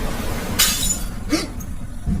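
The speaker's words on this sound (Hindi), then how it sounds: "शीशे की बोतल अचानक जमीन पर गिरकर टूट गई" Glass bottle falling to the floor and shattering, a sharp crash followed by a second smaller clink and scattered fragments, close and fairly loud over a quiet room background.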